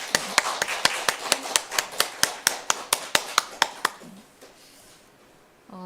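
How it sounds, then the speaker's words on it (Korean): A church congregation claps in welcome, a sharp, evenly spaced beat of about twenty claps in quick unison that stops abruptly and leaves the room quiet. "환영이 박수 한번 할까요?"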